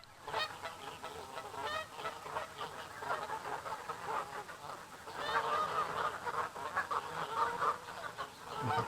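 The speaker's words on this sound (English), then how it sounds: "Just filmed some ducks." Ducks quack in a dense, overlapping chorus at moderate distance, filmed in a park as footage for the video game Paparazzi!: Tales of Tinseltown, getting louder in the second half.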